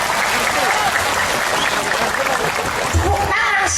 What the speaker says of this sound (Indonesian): Tepuk tangan sekali lagi buat Muhammadiyah